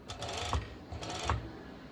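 A sewing machine top stitches elastic on a sporty top, sounding as two short mechanical bursts of rapid stitching with a pause between them, close and fairly quiet.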